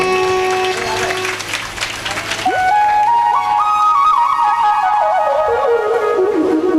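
Applause from the gathering at a Bhagavat Katha recital, a short burst of clapping early on that gives way to sustained melodic instrumental tones rising and falling.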